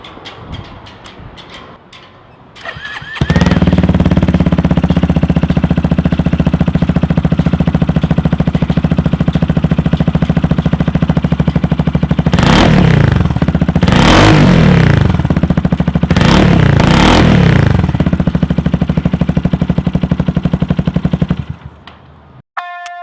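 A Mutt 250 motorcycle engine fires up after a short crank and settles into a loud, close, thumping idle, with several sharp revs blipping up partway through before it cuts off.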